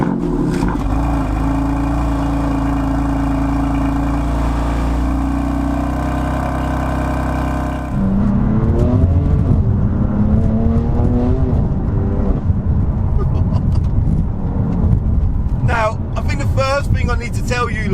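A 2018 BMW M4 CS idles with a deep, steady drone, then pulls away on the road with rising and falling engine note through gear changes, loud and close, while someone talks over it.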